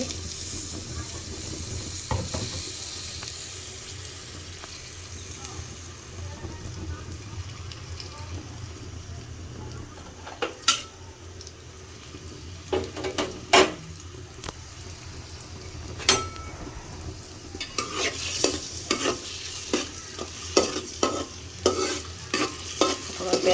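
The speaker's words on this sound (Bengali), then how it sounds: "পেঁয়াজটাকে ভালো করে ভেজে নেব" Onions frying in hot oil in a wok, a steady low sizzle with stirring scrapes and sharp clatters of a utensil against the pan growing busier toward the end, close to the mic.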